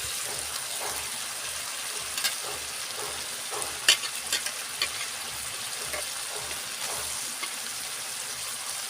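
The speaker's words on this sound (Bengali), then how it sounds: "সুন্দর করে নাড়াচাড়া করে কলিজার সাথে কষে নেব আলুগুলো" Fried potatoes stirred and sautéed with chicken liver in a pan, a constant soft frying hiss with occasional spoon scrapes and light clinks, close and moderately quiet.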